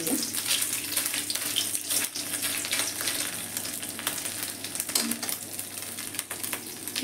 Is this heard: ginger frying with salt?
yes